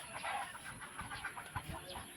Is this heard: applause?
no